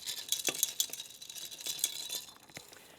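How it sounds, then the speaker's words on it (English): A spoon stirs a Bloody Caesar cocktail in a glass, giving quiet repeated clinks and light scraping taps in an irregular rhythm, close and faint. "Now you just take a spoon and you stir this up."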